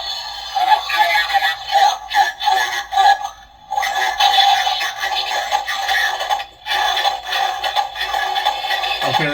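Small-speaker electronic walking effects from an NECA ED-209 action figure from Robocop: rhythmic mechanical clanks and servo whirs in repeating pulses with brief gaps, tinny and close.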